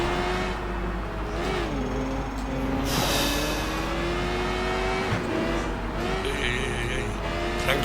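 A motorcycle engine in the video game Sleeping Dogs drones and revs steadily, pitch sliding up and down with a brief louder burst partway through, and no talking.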